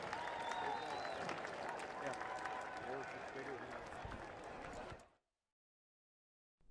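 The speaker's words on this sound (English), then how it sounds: "a round of applause to the St. James Thunder" Crowd applause and cheering at a high school varsity football game for the St. James Thunder, a steady dense roar of clapping with voices mixed in, lasting about five seconds before cutting off abruptly.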